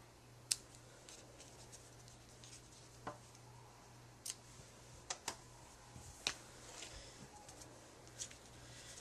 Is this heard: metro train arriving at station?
no